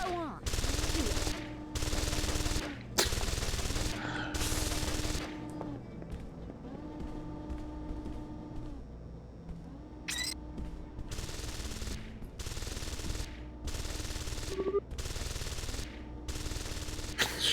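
Repeated bursts of automatic gunfire aimed at a ceiling turret in the PC game Deus Ex: Invisible War, about ten sharp volleys in an uneven rhythm with quieter ambient gaps between them.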